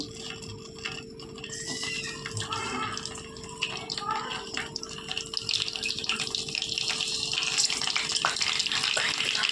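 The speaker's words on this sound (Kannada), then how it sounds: "ಈಗ ಎಣ್ಣೆ ಕಾದಿದೆ, ನಾನೀಗ ಬದನೆಕಾಯಿ ಹಾಕ್ತಾಯಿದ್ದೀನಿ." Eggplant pieces dropped into hot oil give a soft, steady sizzle and crackle that gradually grows denser and louder, with faint kitchen clatter and no clear talk over it.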